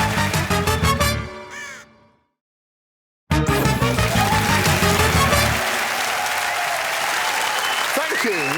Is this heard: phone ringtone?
no